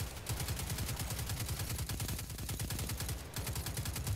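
Rapid, steady automatic gunfire from the video game Destiny 2, a loud close repeating burst of evenly spaced shots running almost unbroken for several seconds, with only a brief dip midway.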